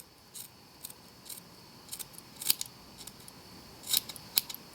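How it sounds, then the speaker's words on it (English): Victorinox scissors snip through cord repeatedly in short, crisp bursts, each cut a bright metallic click, irregularly spaced and close up against a quiet background. "here are some of my Victorinox scissors on that same cord"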